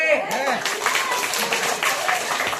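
Audience applause and clapping at a quiz session, a broad burst of many hands clapping that runs throughout, mixed with a voice speaking over it.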